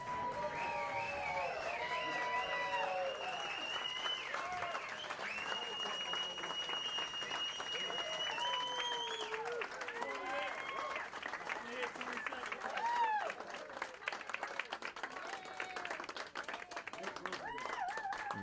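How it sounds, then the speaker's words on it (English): A wedding reception crowd at the Queen Mary in Long Beach, California claps and cheers to welcome the newlyweds, sustained applause with whoops over music playing underneath. "join me in a thunderous round of applause and welcome our guests of honor"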